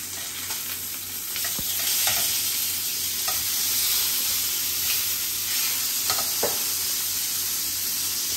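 Food frying in a pan for a Thai breakfast omelette, with a steady loud sizzle throughout and a few sharp clinks and scrapes of stirring, no voices.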